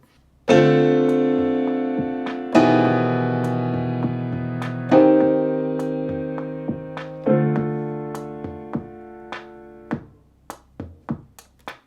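Sustained piano chords change every couple of seconds over sparse, crisp drum hits that grow busier toward the end, close and clear.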